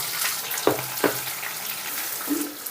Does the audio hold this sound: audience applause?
no